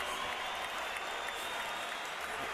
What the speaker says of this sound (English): these fans are standing, cheering